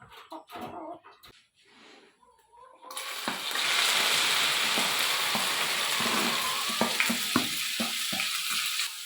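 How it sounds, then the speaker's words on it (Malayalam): Sliced okra frying in hot oil, sprinkled with a pinch of salt, for a kitchen side dish: a steady broadband sizzle starts partway through and holds loud to the end, with a few utensil clicks and earlier quiet speech. "ഇനിയിപ്പോൾ അത് എണ്ണയിലിട്ടിട്ടൊന്ന് വറുത്ത് കോരിയിട്ട് വേണം അത് കിച്ചടിയാക്കാൻ വേണ്ടിയിട്ട്"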